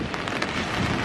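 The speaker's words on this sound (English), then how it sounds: "Now the sun's out, but it's still raining." Steady rain falling on a surface, a continuous soft hiss with scattered drops, moderate and close, no voices.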